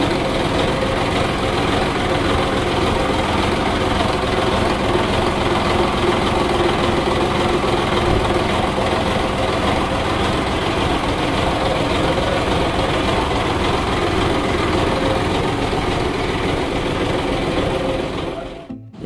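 A launch boat's engine on a Sundarbans trip runs in a steady, loud, droning rumble with a rapid mechanical rattle, holding evenly for nearly twenty seconds before cutting off abruptly at the end.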